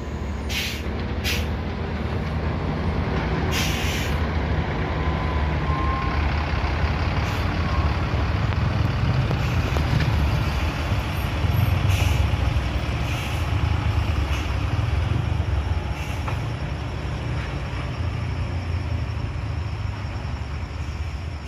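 An ALS long-distance bus engine drones continuously under strain climbing the steep Batu Jomba hill in Sumatra, with a low rumble and occasional hissing bursts, steady and fairly close.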